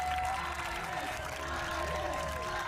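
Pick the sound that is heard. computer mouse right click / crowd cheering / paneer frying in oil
crowd cheering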